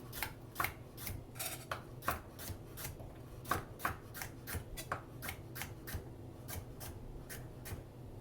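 Peeled food being sliced with a knife on a cutting board while cooking with Coca-Cola, a close, quiet series of crisp, evenly spaced chops, about two per second throughout.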